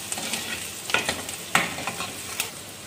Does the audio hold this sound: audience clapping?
no